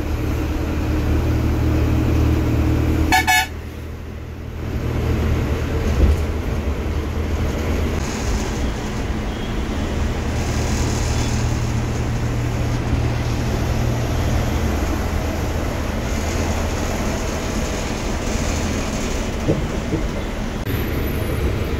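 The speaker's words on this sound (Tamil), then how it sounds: "சில்க் போர்டுக்கு முன்னாடி ஹெவியாக டிராஃபிக்" Heavy road traffic near Silk Board in Bangalore, heard from inside a moving Flixbus, makes a continuous low rumble of engines and road noise that runs steadily throughout.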